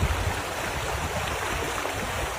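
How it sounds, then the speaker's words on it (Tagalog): Strong river current rushing past at a fishing spot, a steady broadband wash of flowing water close by, filling the short moment without voices. "Handaan lang, malakas ang agos."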